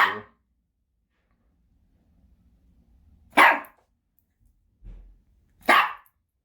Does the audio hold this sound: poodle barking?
yes